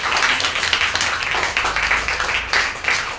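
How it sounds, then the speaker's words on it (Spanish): A church congregation claps and applauds during a Spanish-language worship service in Cuernavaca, a steady dense patter of many hands filling the room with a few louder swells and no talking. "¿Pueden darle un fuerte aplauso al Señor?"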